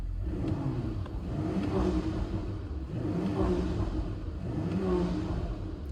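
An Audi RS5 Sedan (640 hp) engine revs in repeated swells with the exhaust opened up, rising and falling about every one and a half seconds with a deep, throaty exhaust rumble.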